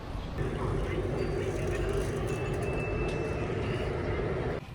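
A steady, loud rumble of a moving MRT metro train carriage fills the clip, with a faint high whine partway through and a drop near the end.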